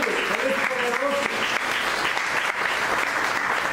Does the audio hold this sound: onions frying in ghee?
no